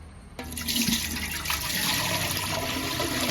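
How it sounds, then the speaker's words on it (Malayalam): After a soft clunk, water gushes steadily into a copper cooking pot, a continuous close splashing pour. "അതിനകത്തോട്ട് വെള്ളം കൂടെ ഒഴിച്ചു കൊടുക്കുക"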